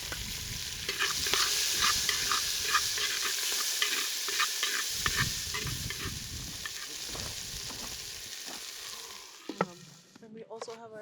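Green onion and ginger sizzle in a pot for Ital stew cooked outdoors in snowy mountains, a steady frying hiss broken by scraping stirs and clinks, ending in a short quieter patch with faint talk.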